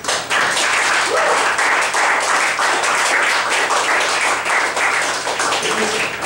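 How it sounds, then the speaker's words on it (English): A comedy club audience applauds comedian Yaz after her set, a dense, loud, sustained wash of clapping that holds steady for several seconds without easing off. "Give her a round of applause."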